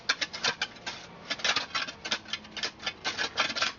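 A dense, irregular run of sharp cutting and chopping taps comes from slicing pieces off a block of clay for cob, close and fairly loud, with no talking.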